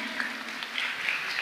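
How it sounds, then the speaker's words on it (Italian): Audience applause at an anniversary commemoration of the Capaci massacre, a short stretch of steady, moderately loud clapping from a crowd. "meritano veramente un applauso"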